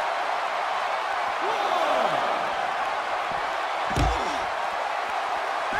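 A wrestler's forearm strike lands in a WWE video game women's match, a single sharp slam-like impact around the middle of a steady crowd roar and commentary.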